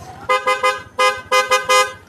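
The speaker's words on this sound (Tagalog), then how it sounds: "loud horn na siya." A Yamaha NMAX V2 scooter horn honks in short, loud bursts, two quick beeps, then a longer one, then three more in quick succession, close by.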